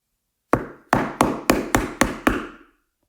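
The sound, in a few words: fists pounding on a door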